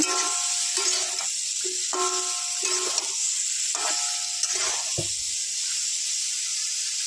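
Chillies and jackfruit seeds sizzle steadily in a hot pan, with a continuous frying hiss and a few scraping stirs of a spoon breaking through; no one speaks.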